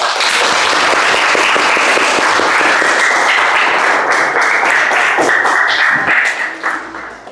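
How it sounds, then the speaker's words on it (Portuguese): A crowd of students applauds loudly and steadily after a talk on the town's history at a school, a dense wash of clapping lasting several seconds before tapering off at the end. "vamos bater palmas"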